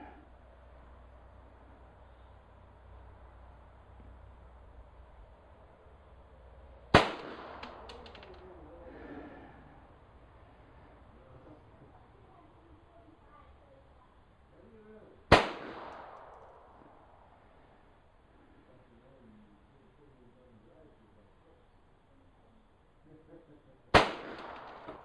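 Three single .22 LR rifle shots firing CCI standard-velocity ammunition at a 50-yard target, sharp cracks spaced about eight seconds apart with short decays, quiet outdoor ambience and distant birds between them.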